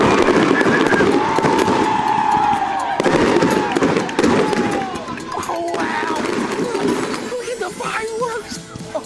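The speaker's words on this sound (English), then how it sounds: "I knew the Pelican baseball game would have some awesome fireworks." Fireworks bursting at a baseball game, a steady wash of crackles and pops with crowd noise and cheering throughout, a sustained loud din from start to finish.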